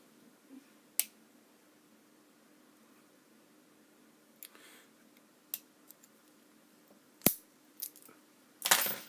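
A Brinks 161 padlock being picked with a tension wrench gives sparse, sharp metallic clicks and ticks close up in a quiet room, building to a cluster of louder snaps at the end.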